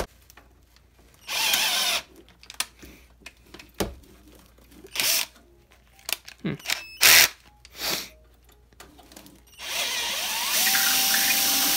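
A power drill opens up the holes in a Technics turntable dust cover hinge bracket, running in several short bursts and then one longer steady run, close by, with brief pauses and handling noise between.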